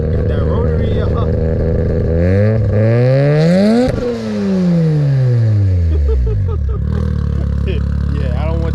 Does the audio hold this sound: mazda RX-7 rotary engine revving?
yes